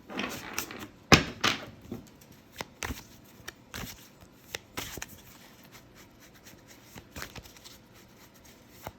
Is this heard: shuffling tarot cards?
yes